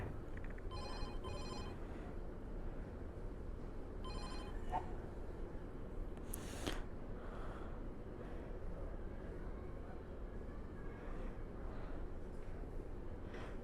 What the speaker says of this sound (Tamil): அடிச்சிட்டே இருக்குது பாருங்கள். எத்தனை ஃபுட் ஆர்டர் அடிக்குது.